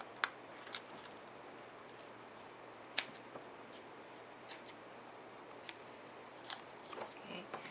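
Scissors trimming excess designer paper for a card project, giving a handful of short, sharp snips spaced irregularly against a quiet room background.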